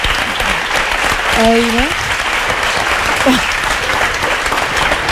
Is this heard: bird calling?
no